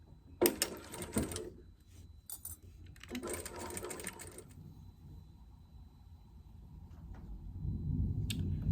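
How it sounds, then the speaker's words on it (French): A sewing machine stitching bias binding along the curved edge of an ironing board cover, two short bursts of rapid mechanical whirring and clatter separated by pauses, close by, followed by a low hum toward the end. "c'est parti pour la couture dans le sillon du biais"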